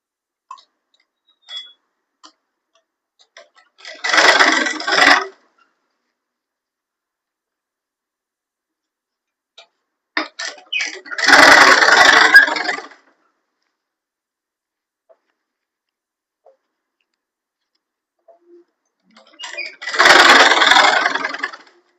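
An electric sewing machine stitches salwar suit fabric in three separate bursts of rapid whirring, each lasting one to three seconds, with faint clicks and quiet pauses between, close by.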